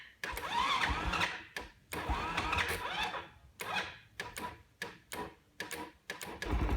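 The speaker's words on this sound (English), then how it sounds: "Okay, your bike's running now" A small Venom 110–250cc motorcycle engine runs just after starting, its uneven, chugging idle broken by repeated sharp bursts and brief pauses, close by.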